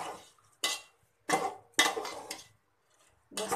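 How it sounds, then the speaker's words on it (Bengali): A metal spoon clanks and scrapes against a pot while khichuri ingredients are stirred and sautéed, with a few separate, close knocks spaced irregularly and quiet pauses between them. "এটাকে এখন আমি ভালোভাবে কষিয়ে নেব।"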